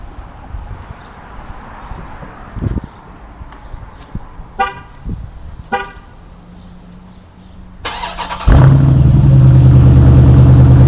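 A Dodge Durango SRT engine starts up with a loud, deep bark and settles into a heavy idle rumble. Scattered clunks and brief tones come before it.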